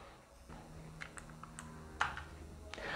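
Light typing on a wireless computer keyboard connected to a YoloBox Pro: scattered individual key clicks over a low background hum, irregular and fairly close.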